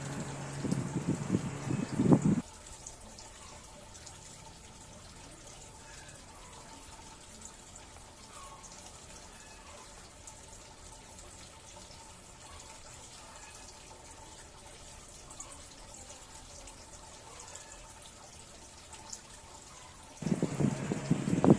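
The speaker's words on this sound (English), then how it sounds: "we will put water in our hand so that the sealant will not stick on our finger" Running water splashes onto hands briefly at the start and again at the end, with a long quiet stretch of faint background hiss between the two bursts, outdoors by a garden pond.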